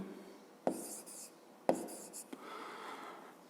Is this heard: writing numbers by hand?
yes